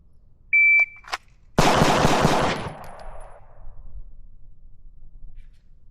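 A shot timer's electronic beep sounds, then four very rapid pistol shots ring out close and loud in a tight burst during a Bill Drill, leaving a fading echo and an otherwise quiet range.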